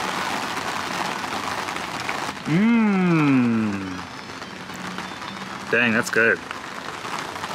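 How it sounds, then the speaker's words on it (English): Steady patter of rain drumming on an umbrella overhead outside a resort bar, continuous throughout, with a person speaking briefly in between. "It is raining right now, if you guys can hear it, on the umbrella above me."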